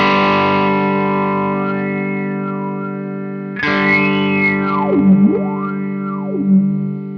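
Electric guitar chords ring through a Chase Bliss Automatone Preamp MKII pedal while the mid control's filter sweeps up and down, giving a rising and falling vocal-like tone that swells louder partway through, with no talking.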